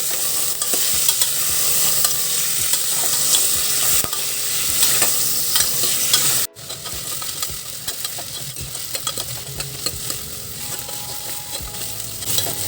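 Onions and cleaned goat trotters fry in a pan while being stirred, a loud, steady sizzle with continuous scraping and clatter, briefly broken midway before carrying on.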